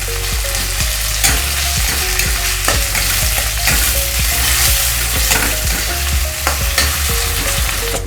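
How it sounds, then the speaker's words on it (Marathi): Onion and tomato sizzling steadily in a hot pan while being stirred, with repeated scrapes and clinks of the spoon against the pan over a constant frying hiss, close and loud. "तर आता आपण टोमॅटो घालूया, व्यवस्थित मिक्स करून घ्यायचे।"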